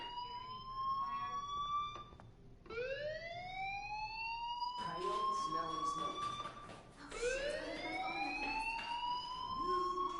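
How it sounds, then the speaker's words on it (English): A school fire alarm in the video game Life is Strange, rising whooping siren tones repeating every couple of seconds, loud and steady, with people talking over it. "Hey, do you hear that fire alarm? That means you should be outside."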